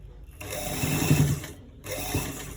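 A sewing machine stitches the inner pocket of a V-neck garment in two bursts of rapid mechanical whirring, separated by a short pause, with no voices.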